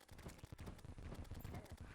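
Rapid explosions from Stardust particles and a bow in the Terraria video game, a dense barrage of crackling bursts and thumps repeating quickly throughout, loud and continuous.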